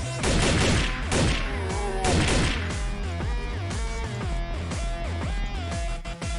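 Stockpiled ammunition cooking off in a chain of explosions in the Xpiratez game, a rapid, loud series of booms and crackling blasts with metallic ringing tones layered over them, continuous and close.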